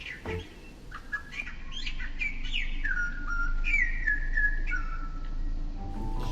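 Birds chirp and whistle in a series of bright, varied calls over a steady low background hum, fairly close and clear.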